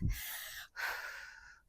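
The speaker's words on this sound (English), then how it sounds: "I'm breathing hard and heavy." Heavy, hard breathing during a full-body power yoga workout: a sharp gasping inhale, a short pause, then a long forceful exhale, close and loud, with no talking.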